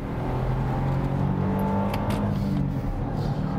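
A Smart fortwo's small engine pulls hard under acceleration while chasing a Yaris, a steady close droning hum with rising revs that fills the interior without pause.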